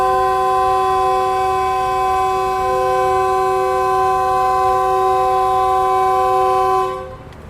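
A Green Line passenger train pulls out of Rohri Junction, sounding a long, loud, steady horn blast that holds for about seven seconds before cutting off abruptly, with rail rumble beneath.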